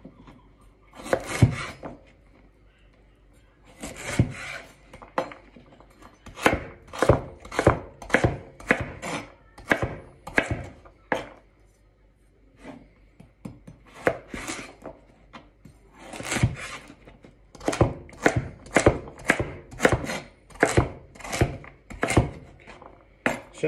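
A knife dices carrot on a chopping board in quick, sharp rhythmic bursts of taps. Short pauses separate the runs of cuts, and the chopping is close and clear with no talk.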